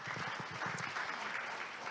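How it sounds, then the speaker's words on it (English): An audience at a panel discussion session claps for the panelists, a steady, dense round of applause that carries evenly through the whole moment without pause. "Please give them a round of applause."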